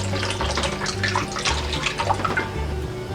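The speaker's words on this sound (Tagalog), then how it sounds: "Magdadagdag lang po tayo ng kaunting tubig." A little water pours into a pan of coconut milk for bibingkang malagkit, a close, steady splashing trickle lasting a few seconds with no voices.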